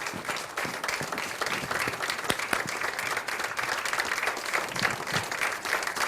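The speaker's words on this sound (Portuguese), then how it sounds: "Um grande aplauso às nossas convidadas." A Portuguese TV studio audience claps for the show's guests, a steady, moderately distant patter of many hands with no talk over it.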